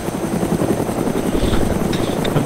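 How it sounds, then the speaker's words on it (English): Helicopter in a video game, its rotor producing a loud continuous chopping thrum that stays close and steady from start to finish. "this is the one time I've got a helicopter"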